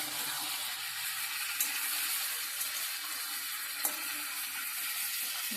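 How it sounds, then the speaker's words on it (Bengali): Spices with ginger and cumin sauté in a hot pan, giving a soft, steady sizzle with a few faint clinks from stirring, heard alone at low level. "এবার ভালো করে কষিয়ে নেব।"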